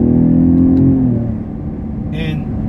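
2017 Ford Raptor truck engine rumbling loud and close as it drops to third gear, a deep steady drone that eases off, with a short hiss near the end and a voice over it.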